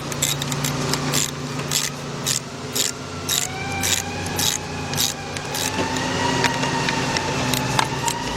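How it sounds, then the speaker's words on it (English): A 3/8 drive ratchet with a 13mm deep socket clicks in quick repeated strokes while tightening bolts during timing belt and radiator work on a Chrysler-family engine, close and rhythmic with a faint ringing hum. "got my 13mm deep, my 3/8 drive ratchet. We're gonna go ahead and tighten those two up"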